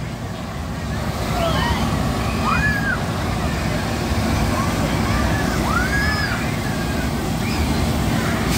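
Fire company hose lines spray water outdoors during a soaking of a new rescue truck, a continuous rushing hiss of water with faint voices and chatter in the background.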